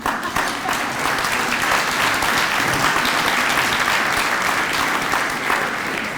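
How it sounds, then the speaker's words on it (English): Audience at an awards event applauds steadily for a slate of board candidates, a dense, even wash of clapping that holds for about six seconds with no voices over it. "Please join me in recognizing and approving by applause this year's slate of candidates."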